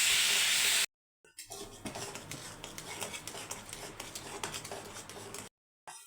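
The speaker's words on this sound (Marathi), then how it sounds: "आता हे मिश्रण घट्ट होईपर्यंत त्याला परतवत राहायचं." Tomato burfi mixture of tomato pulp and sugar stirred in a pan, a steady scraping and bubbling sizzle running continuously at close range, with brief silent gaps at the start and end.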